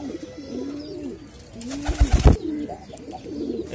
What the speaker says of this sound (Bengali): এগুলো হচ্ছে আমার নর কবুতর,